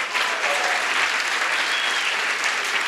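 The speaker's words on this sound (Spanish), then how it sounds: "Entonces están recibiendo un fuerte aplauso a nuestra iglesia." A church congregation applauds loudly, a dense continuous wash of clapping from many hands, steady and close throughout.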